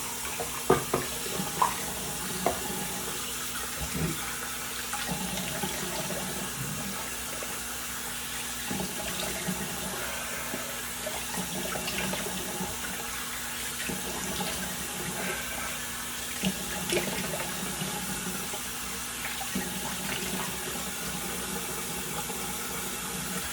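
Water runs steadily from a bathroom tap during a post-shave rinse, a continuous moderate splash with a few small knocks and clicks near the start.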